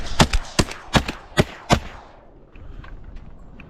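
Five sharp, loud shotgun blasts fire in quick succession at passing ducks on a North Carolina duck hunt from a boat blind, each with a short echoing tail, then the reports give way to quiet outdoor ambience.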